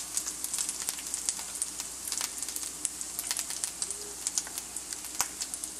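Ginger stir-frying in a pan for homemade egg rolls, a close, steady crackling sizzle with quick sputtering pops and occasional light scrapes of stirring.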